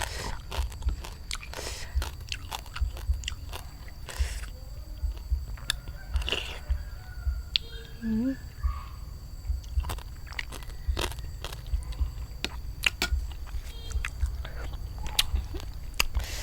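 Santol seeds from a spicy Thai santol salad with field crab and fermented fish sauce are bitten and chewed close up, giving repeated wet crunches, scrapes and sucking sounds with no talking.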